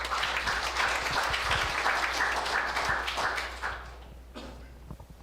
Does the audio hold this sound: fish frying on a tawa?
no